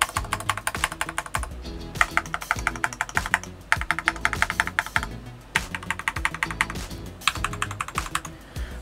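Fast typing on an FL Esports CMMK MK870 barebone mechanical keyboard kit, a dense, close, crisp clatter of keystrokes in steady runs broken by brief pauses, with no voice over it.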